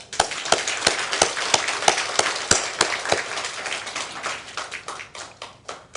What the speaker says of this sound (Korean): 하나님께 감사의 박수를 보내겠습니다.